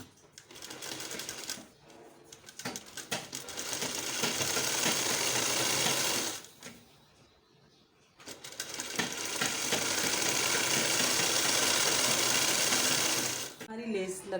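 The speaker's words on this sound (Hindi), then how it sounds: "इस तरह से फिर हम यहाँ से पूरी सिलाई यहाँ तक कंप्लीट कर लेते हैं।" An electric sewing machine stitches lace onto the sleeve of a designer kurti in two long, loud, whirring runs of rapid needle strokes. A short starting burst and quiet pauses fall between the runs.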